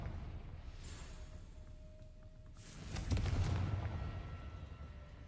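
A Confringo fire spell exploding in Hogwarts Legacy during a fight with a giant spider, two deep booming blasts with a rumbling low tail over steady game background.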